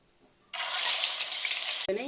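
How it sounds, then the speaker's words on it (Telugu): Eggs with turmeric hit hot oil in a pan and break into a loud, steady sizzle that starts abruptly and holds, close up, with a brief disturbance near the end. "పసుపు వేసుకుని గుడ్లు వేపేసుకుందాం."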